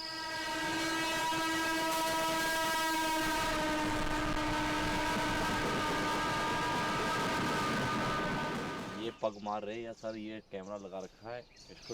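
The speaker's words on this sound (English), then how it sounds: "The trains then pass through this stretch of the railway line slowly" A train rumbles steadily past on a railway line through Rajaji forest by the Ganges for several seconds with a long sustained horn, then it cuts to people talking.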